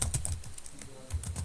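Keys clatter on a computer keyboard as a password is entered, a quick run of light, close taps with short gaps between bursts.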